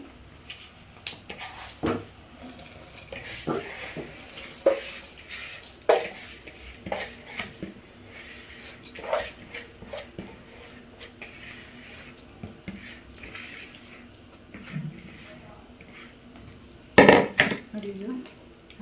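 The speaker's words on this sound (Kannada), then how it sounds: "ಈಗ ನಾನು ಒಂದೂವರೆ ಲೋಟನ ಅಕ್ಕಿ ತೊಳೆದು ಹಾಕ್ತಾಯಿದ್ದೀನಿ" One and a half cups of washed rice go into a pot of simmering tomato rice bath, with scattered metallic clanks, scrapes and stirring noises at close range and a sharp clatter near the end.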